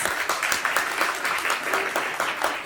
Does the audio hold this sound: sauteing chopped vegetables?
no